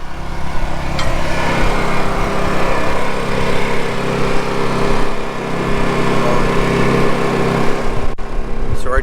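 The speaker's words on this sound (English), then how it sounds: "if you can hear the generator out there, it's running pretty hard" A generator aboard a liveaboard boat in the Bahamas runs hard with a steady, loud, droning engine hum that holds without a break and sits close by.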